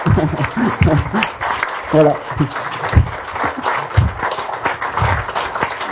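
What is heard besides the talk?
audience applause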